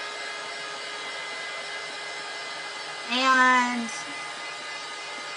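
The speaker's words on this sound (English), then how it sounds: "I use a heat gun because it's a little quieter than my blow dryer" A heat gun drying a craft project blows a steady, even airflow hiss throughout, with a brief voiced word briefly rising over it partway through.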